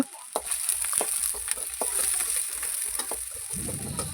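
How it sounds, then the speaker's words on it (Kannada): Chopped onions sizzle steadily in hot oil in a pan for an egg masala, a constant bright hiss with occasional soft clicks of stirring, close and without talk. "ಎಣ್ಣೆ ಸ್ವಲ್ಪ ಬಿಸಿ ಆದಮೇಲೆ 2ರಿಂದ 3 ಈರುಳ್ಳಿನ ಕಟ್ ಮಾಡಿ ಸೇರಿಸ್ಕೊತೀನಿ. ಸೇರಿಸ್ಕೊಂಡು ಚೆನ್ನಾಗಿ ಫ್ರೈ ಮಾಡ್ಕೋಬೇಕು."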